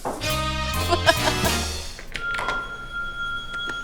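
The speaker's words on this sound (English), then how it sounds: "My phone is ringing." A phone rings with a bright electronic tone in a family home, repeating pulses up front followed by a sustained higher beep, fairly loud and close with a thump partway through.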